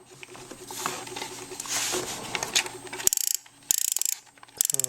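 Film is wound onto the toothed take-up spool of a Diana+ 35mm film back, giving quiet mechanical clicks and scraping that turn into sharp, rapid ratcheting bursts near the end, close and alone.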